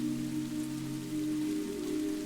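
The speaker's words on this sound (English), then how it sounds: "the rain becomes softer still, until all you hear is a soft whisper" Soft rain falls in a steady, gentle patter over the hills among olive trees, an even hush with a low sustained hum beneath it and no voices.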